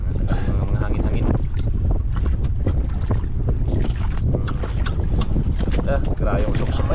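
Strong wind buffets the microphone on a small boat out at sea during grouper fishing, a constant roaring gust with voices talking underneath.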